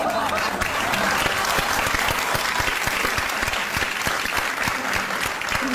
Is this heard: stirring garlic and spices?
no